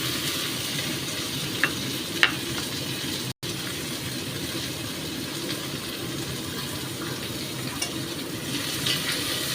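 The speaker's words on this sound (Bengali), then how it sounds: "টমেটো দিয়ে ভাজবো।" Chopped tomato frying in a pan with red lentil dal, a steady moderate sizzle with a couple of light utensil taps and a brief dropout.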